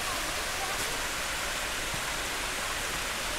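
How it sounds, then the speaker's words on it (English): Water pouring down a normally dry waterfall at a tourist spot in Chiang Mai, Thailand, a steady broadband rush that fills the whole clip without pause, close and constant. "I've only seen it running water like this a couple of times over the years."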